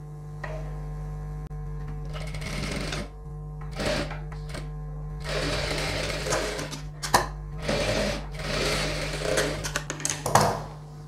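A sewing machine stitches the shoulder seam of a chudidhar top in several bursts of rapid mechanical whirring, separated by short pauses, over a low steady hum.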